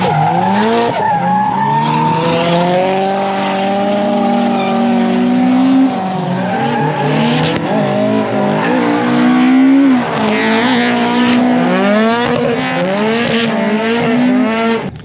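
JDM drift cars slide close to the barrier at Driftland in Scotland during a Dorifest event, filling the scene with loud, wavering engine revs and screeching tires for the whole stretch, with pitch rising and falling as the cars pass nearby.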